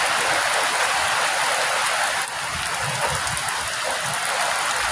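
A rainstorm with gusting wind near mango trees, steady loud hiss of falling rain with a brief dip in intensity midway, continuous and close with no voices.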